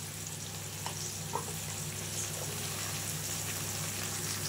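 Sambar ingredients, including brinjal, fry in a pan with a steady, moderately loud sizzle. A few soft stirring clicks sound over the sizzle, and no one speaks.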